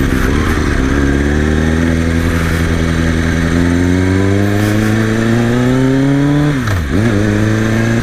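A 2005 Kawasaki ZX6R 636 sport bike with a full Yoshimura exhaust drones loud and close, its engine pitch climbing steadily through a gear before a quick dip and rise as it shifts.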